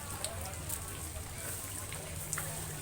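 Steady rain falls on a village in the Sangihe Islands, a soft, even hiss of drops throughout with a low background rumble, no voices.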